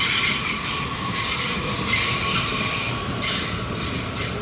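A KAI commuter train rolls into Juanda station on track 2, its wagons rumbling steadily with metallic wheel squeal and rail noise, loud and close throughout with no talking.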